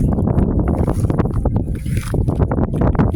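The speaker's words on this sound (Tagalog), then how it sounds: "Sarap kaya dito ang hangin." Loud, gusty wind buffets the microphone with rumbling low-end bursts, rising and falling continuously, with no one speaking.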